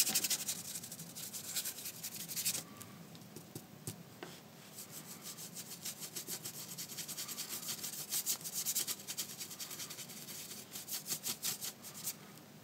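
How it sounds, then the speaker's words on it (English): Brush scrubbing purple acrylic paint across a surface for a fresco-style finish on a dark background, soft repeated rasping strokes in quick bursts, fairly quiet and alone. "So dab it on, remove the excess, and scrubby it through."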